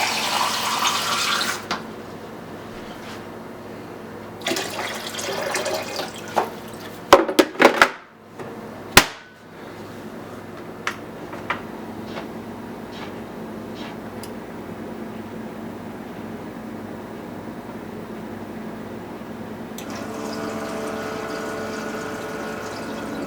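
A repaired portable ice machine pumps and fills with water, giving a steady trickling hum broken by a few sharp clunks and knocks midway, with a brighter rush of flow returning near the end; no talking.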